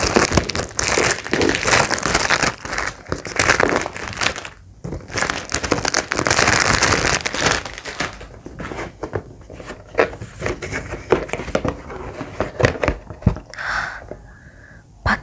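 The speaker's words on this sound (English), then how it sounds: "So let's get into the unboxing." Jivago Le Cadeau luxury perfume packaging being unboxed from a big white box: close, uneven crinkling and rustling of paper and card, with handling bumps and brief pauses as the layers come apart.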